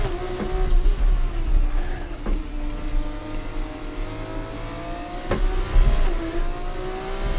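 A Formula 2 race car in the F1 24 game roars around the Hungary circuit, its engine steadily revving up through the gears with a couple of sharp downshift blips, loud and close with no talking.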